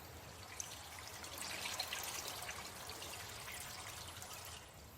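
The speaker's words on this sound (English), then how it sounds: "You see rushing water." Rushing water in the video game Colossal Cave, a steady broadband wash that swells slightly then holds, heard alone without any voice.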